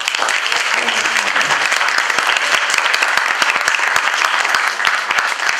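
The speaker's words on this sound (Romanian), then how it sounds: "eu cred că ar trebui să-și aplaudăm lucrul acesta" Audience at a regional theatre festival awards ceremony applauds loudly and steadily, a dense wash of many hands clapping close by with no pauses.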